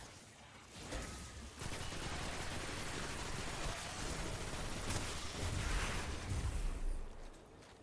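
Rapid gunfire in Destiny 2, dense and sustained bursts filling the scene, with a few heavier booming hits toward the end.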